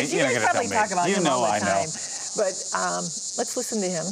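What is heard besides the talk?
Linnaeus cicada call recording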